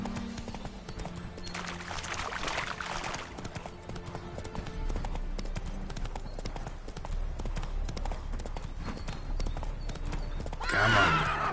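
Rhythmic clip-clop of horse hooves on ground in The Witcher 3: Hearts of Stone, ending with a loud, close whinny as the horse spooks; a soft ambient bed plays underneath.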